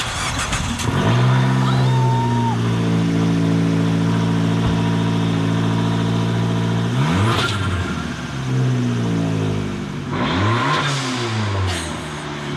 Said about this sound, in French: Voilà donc ce que fait un turbo dans une petite Fiat Abarth.